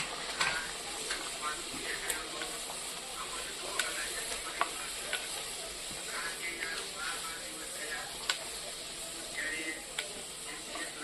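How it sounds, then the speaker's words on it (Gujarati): Puri frying hot in oil in a village kitchen, a constant bubbling sizzle with faint clinks and soft background noise. "જો આ પૂરી તરાતી જાય ગરમા ગરમ."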